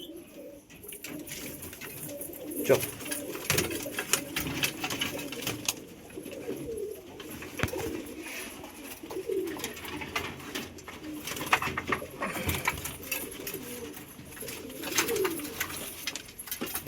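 Female pigeons coo repeatedly at a pigeon house while feeding, a steady chorus of low throaty coos with occasional wing flutters, fairly close, and a brief call from a person in the background.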